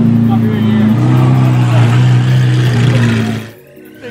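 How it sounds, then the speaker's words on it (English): Straight-piped Lamborghini SVJ engine revving loudly and close, a sustained deep roaring drone held for about three seconds before cutting off abruptly into near quiet. "Okay, look, yeah, the car is loud. It's a straight piped SVJ."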